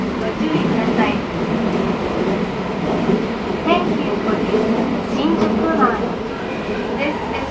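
A Toei Shinjuku Line 10-300 series subway train bound for Motoyawata rumbles steadily along the track between Shinjuku and Shinjuku-sanchome, a continuous roar with faint clicks and squeals, while people talk indistinctly in the car.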